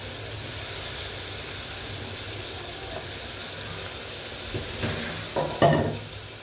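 Chepa shutki, dried fish, stir-fried in a pan: a continuous close hiss and sizzle runs throughout, with scraping stirs and small spatters clustering toward the end.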